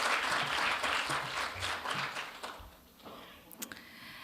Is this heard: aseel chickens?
no